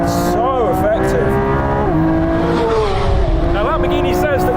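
A Lamborghini Revuelto supercar's brand-new engine drones loud and steady under continuous speech, its pitch sweeping and shifting through the run as the car accelerates during a race against a McLaren 750S.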